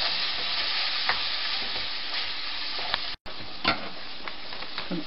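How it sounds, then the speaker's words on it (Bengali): Shrimp and kochu lota curry being stirred in a frying pan, a steady close sizzle with scraping and clinking of the spoon against the pan and a brief dropout midway, no talking. "দিয়ে কিছুক্ষণ নাড়াচাড়া করব।"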